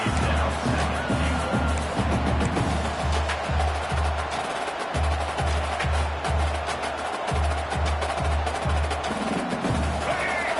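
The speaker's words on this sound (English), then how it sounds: "And the crowd coming to life here, trying to help this defense down in the red zone." Football stadium crowd during a game, a broad sustained roar of many voices building behind repeated low rhythmic thumps, with announcer-style talk over it.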